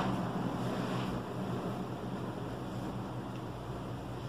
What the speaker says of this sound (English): Shower.